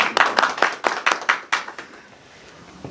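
A small audience claps hands at a talk show in Meerut, with about a dozen loud, uneven bursts over the first two seconds before the clapping trails off into near quiet.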